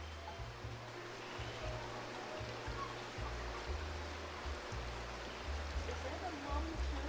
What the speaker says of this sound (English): Always so obsessed with these fountains.